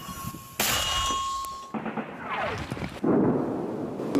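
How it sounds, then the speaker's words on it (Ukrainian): A sharp, booming mortar shot bursts out at the front line, followed by a long rumbling echo and a second heavy blast, all in an outdoor setting. "Постріл!"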